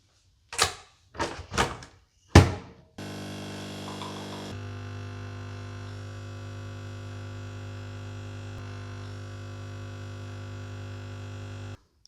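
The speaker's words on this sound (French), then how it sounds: "Je mets la capsule dans la machine à café." A capsule coffee machine brewing into a Le Creuset mug gives a steady, loud mechanical hum with a pump-like drone that runs for about nine seconds. Several sharp clicks and knocks come just before it as the capsule is loaded.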